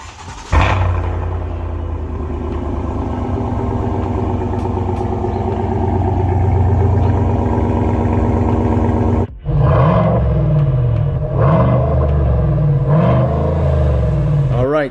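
A 2020 GMC Sierra with a newly installed Borla exhaust, starting and running with a loud, deep steady rumble, then cutting out briefly before firing again with several throaty revs.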